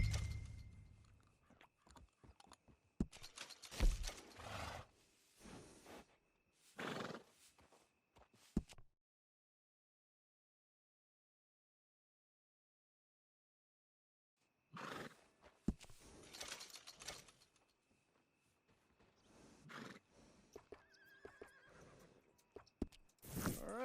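Horse neighing and whinnying in Red Dead Redemption II, with clip-clop hooves, in two bursts separated by a long silent gap; fairly loud and close, with no talk.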